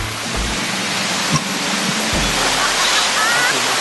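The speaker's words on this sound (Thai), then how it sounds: "น้ำตกห้วยแก้ว อยู่ใกล้ๆแล้วครับ" Huay Kaew waterfall in Thailand gives a steady, dense roar of falling water at moderate distance, continuous for the whole stretch with a couple of faint bumps but no clear speech.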